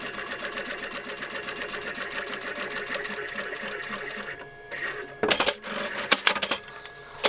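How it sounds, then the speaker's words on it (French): A sewing machine stitches a quilted card holder made of slightly stretchy fabric, running in a steady fast mechanical whir with clicking, pausing briefly, then resuming in short loud bursts. "vous allez bien entendu coudre sur le trait qu'on a tracé donc à 5 cm du bord"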